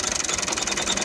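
A tractor engine runs steadily nearby with a fast, even, throbbing pulse and a mechanical clatter, and no other sounds stand out.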